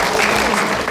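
Brief burst of audience applause at a campus event, a dense wash of clapping from a crowd heard loud and close for about a second.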